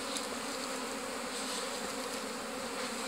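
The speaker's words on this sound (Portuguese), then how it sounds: "Aqui já nasceu algumas abelhas." Bees buzzing steadily around a comb built on paraffin wax, a dense close hum that holds even throughout with no voices.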